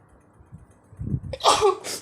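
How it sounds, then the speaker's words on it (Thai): One person sneezes while cooking an Isan-style frog curry: a brief sharp intake of breath, then a single loud, hissy sneeze close by. "โอ้ยยี่จาม"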